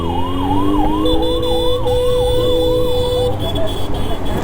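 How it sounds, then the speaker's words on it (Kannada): A close ambulance siren wails in cyclic rises and falls through busy road traffic, with a steady horn tone joining partway and engine rumble underneath before the siren fades near the end. "ಜಾಗ ಬಿಡಿ, ಜಾಗ ಬಿಡಿ, ಆಂಬುಲೆನ್ಸ್ ಹೋಗ್ಲಿ."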